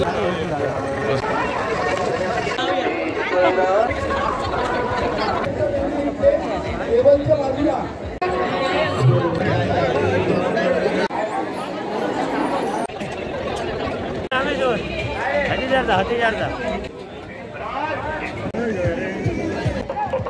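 A dense crowd chatters and murmurs continuously at the Shri Dev Rameshwar chariot festival in Akeri village, Sawantwadi, Konkan, with overlapping voices close by and a steady babble throughout.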